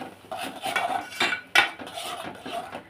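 A utensil stirring egg curry gravy with fresh curry leaves and roasted chana dal in a pan, metal scraping and clinking against the pan in a run of uneven strokes, close and fairly loud.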